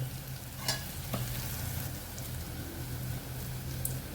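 Turmeric, red chili powder and masala sautéing in a pan for veg pulao: a low, steady sizzle and crackle with faint stirring scrapes, no voices.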